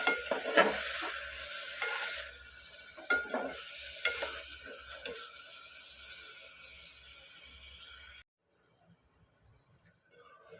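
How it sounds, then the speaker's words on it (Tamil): Tomatoes and green chilies sauté with salt in a pan for tomato rice, giving a steady close sizzle with scattered spatula scrapes and taps that cut off abruptly near the end, leaving faint quiet. "இப்போது தக்காளி பச்சை மிளகா ரெண்டுத்தையுமே உள்ளார சேர்த்துக்கிட்டேன் இது நல்லா வதங்கிட்டேன்"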